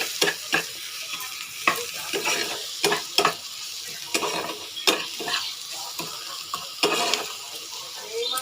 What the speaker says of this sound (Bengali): চলো এটাকে একটু ভেজে নিই